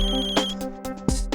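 Ringtone of an incoming phone call, a steady tonal melody with strong sustained harmonics and short accented bursts, loud and close, with no talk over it.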